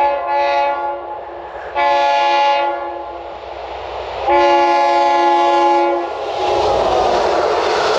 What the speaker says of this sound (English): This train is passing by at 115 kilometres per hour